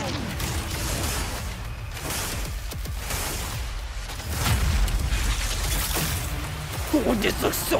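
Deep booming blasts and rumbling bursts from the Mecha BREAK game trailer roll beneath a voice talking throughout, with a louder burst near the end.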